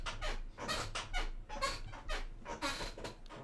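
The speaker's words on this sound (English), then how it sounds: "You actually hear my squeaky ass chair too" A very squeaky chair creaks in a rapid series of sharp, close squeals with short gaps between them, loud and up front with no talking.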